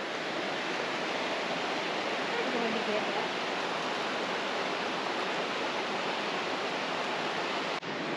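Rushing river water roars steadily over falls at Chutes, Northern Ontario, a broad unbroken wash, loud and constant throughout.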